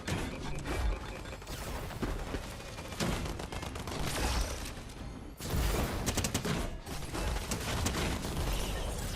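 Dense, continuous Uzi gunfire in Fortnite, loud and busy throughout with crashing game effects and a brief gap midway before the shooting resumes.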